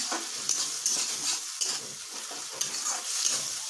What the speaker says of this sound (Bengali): দেখুন টমেটো বেশ ভাজা ভাজা হয়ে গেছে